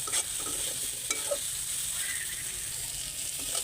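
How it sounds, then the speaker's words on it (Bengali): Leafy greens stir-fried in a hot kadai give a soft, steady sizzle with a few scraping clinks of the spatula near the start, fairly quiet and close. "এই যে শাক ভাজি করলাম।"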